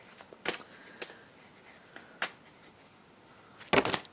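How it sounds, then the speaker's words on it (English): Tarot cards are shuffled in a few quick riffling bursts, close and fairly quiet, with short pauses between them and no talk. "just shuffling the cards"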